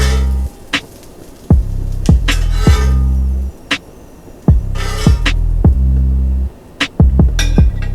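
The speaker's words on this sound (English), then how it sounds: "I'm going to remove them from the griddle and sit them on my plate" Canadian bacon comes off a griddle onto a plate for a homemade Egg McMuffin, heard as a series of sharp scrapes and clinks over a steady low griddle hum.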